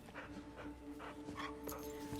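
A dog whimpering in a scene from the action film John Wick: Chapter 2, a series of soft, repeated whines at a steady rhythm over a low, faint background.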